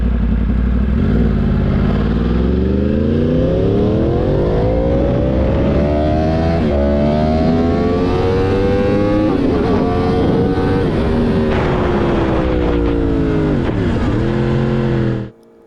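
Yamaha R1 motorcycle engine and exhaust while riding, a loud continuous roar that climbs steadily in pitch through the gears with brief dips at shifts, ending with a sharp drop as the throttle closes.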